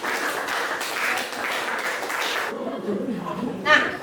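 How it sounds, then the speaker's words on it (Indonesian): A school class claps for a presenting group, a moderate burst of many hands lasting a couple of seconds before fading into quiet chatter and a short chuckle from students. "Kasih tepuk tangan untuk kelompok."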